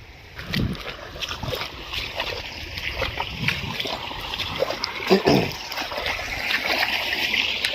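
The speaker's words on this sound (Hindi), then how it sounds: "आपको दिखा रहे हैं कि खेत में पानी आ रहा है और कितनी तेज़ी से आ रहा है" Water gushing from a tubewell into a rice field in a village, a continuous splashing, churning rush with irregular surges and splatters, close and fairly loud throughout.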